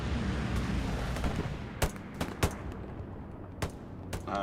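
Gunfire in the World War II shooter Hell Let Loose, a rumbling battlefield bed with several sharp, distinct shots cracking out at irregular intervals, some close and punchy, others more distant.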